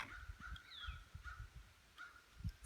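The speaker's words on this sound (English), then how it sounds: "Let's see what birds are calling." Faint spring birdsong outdoors in May, with scattered distant calls and a few crow-like caws over low wind rumble and handling noise, quiet and far off.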